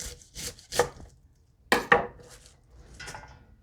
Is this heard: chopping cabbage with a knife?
yes